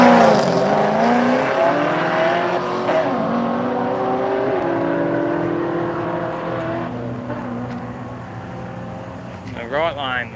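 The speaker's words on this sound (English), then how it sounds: "Loves watching the live drag racing." Drag racing car at the Street Machine Drag Challenge, a loud engine roaring and shifting pitch as it accelerates, then fading under ongoing talk.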